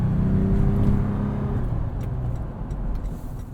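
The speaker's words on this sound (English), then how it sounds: "You can hear that TRD exhaust." A 2020 Toyota 4Runner's engine rumbles steadily with low throaty tones from its TRD exhaust, a brief rev rising early before settling into a continuous idle-like drone.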